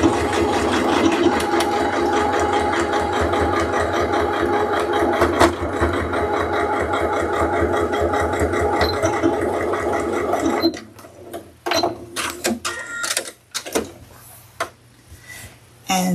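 A sewing machine runs steadily and loudly, stitching across drawstring purse fabric at a 5/8-inch seam, then slows into short stop-start bursts with clicks near the end.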